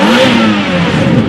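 A 2008 Ferrari 430 Spider with a six-speed manual revving at a European car show, a loud, close, sustained engine roar with a steady rising pitch.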